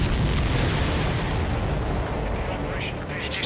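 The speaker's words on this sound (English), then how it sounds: "Did you see that explosion?" A supply ship explodes in the Ace Combat 7 video game, a deep, sustained rumbling boom that fills the whole span, with heavy low roar and a dull, slowly fading tail.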